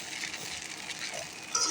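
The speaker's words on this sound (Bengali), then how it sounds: "আরেকবার নাড়াচাড়া করে দিতেছি।" Noodles being stirred in a pan as cooking finishes, a soft continuous scraping sizzle, close and fairly quiet, with a brief louder utensil scrape near the end.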